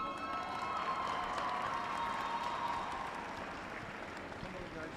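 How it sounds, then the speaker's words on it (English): A crowd at the FTC Arizona State robotics championship gives a broad wash of applause and cheering that holds steady for several seconds and tapers slightly toward the end. "Give them a huge round of applause,"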